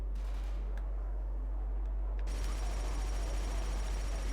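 A mounted machine gun firing in Killzone 2, a few sharp shots that give way to a continuous, dense stream of rapid fire over a heavy low rumble.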